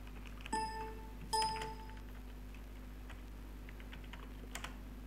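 Keystrokes on a computer keyboard, two short bursts of quick typing followed by a few scattered faint taps, quiet and close, over a steady low electrical hum with no talking.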